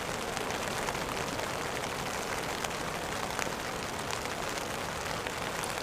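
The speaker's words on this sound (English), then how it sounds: "Yeah, it's raining good." Heavy rain falls steadily outdoors in Iceland near the coast, a dense, even hiss of drops on surfaces with no breaks, close and continuous from start to finish, with no voices.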